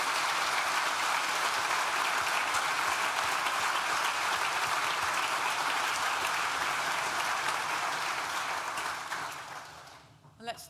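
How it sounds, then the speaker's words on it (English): Sustained applause from a large graduation ceremony audience in a hall, honouring the staff, steady and dense for about nine seconds before thinning out and fading near the end. "I wonder if we can just give them a round of applause"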